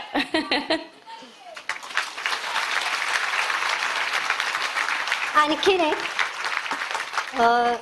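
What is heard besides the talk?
audience applause at women's conference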